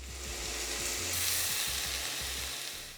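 White rice sizzling in a pan with sautéed garlic and onion, a loud, close, continuous hiss with a low rhythmic thumping of stirring underneath.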